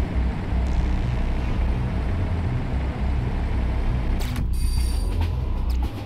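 Constant low rumble and rattle of a moving train in the video game Switchcars, steady and loud, with a brief hissing burst near the end.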